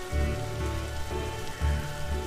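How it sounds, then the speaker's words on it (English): Rain drums steadily on a rooftop in The Darkside Detective 2 video game, a dense, even patter with a low rumbling undertone and no talking. "Every time I bring a book back, I end up on the roof in the rain."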